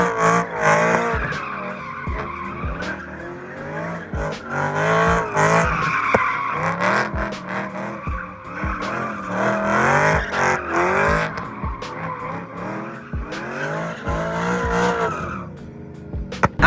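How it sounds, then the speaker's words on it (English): A car spinning donuts on a canyon road, tires skidding and squealing loudly in long continuous sweeps with engine revving underneath, close and sustained throughout. "we did donuts in the canyons"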